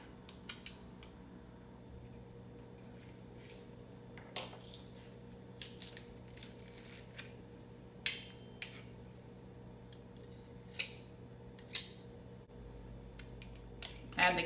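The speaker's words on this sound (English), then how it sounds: "I'm gonna mince my garlic." Garlic is minced with a knife on a cutting board, heard as sparse, sharp clicks and taps scattered irregularly over a quiet kitchen hum, with a few louder chops near the end.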